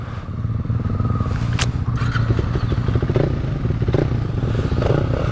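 A 2016 KTM Duke 390 with an idle and stalling problem: its single-cylinder engine runs loud and close with a rough, pulsing rumble and some mechanical clatter, and no other sounds are present.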